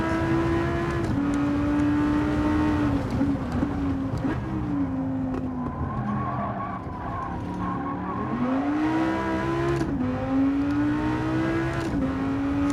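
A race car engine in a racing video game drones loudly and continuously, its pitch climbing, dipping and climbing again through gear changes and corners near 8500 RPM, with faint tire noise underneath.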